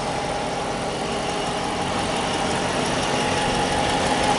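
A 5.7-liter V8 Hemi in a Dodge Challenger SXT Plus idles steadily up close, a continuous low rumble at an even level with no talking over it.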